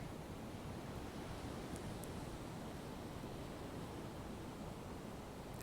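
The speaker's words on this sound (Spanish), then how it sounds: "Escuchen las olas del mar." Sea waves washing onto the shore at sunrise, a steady soft roar of surf that stays constant and fairly faint, with no voices.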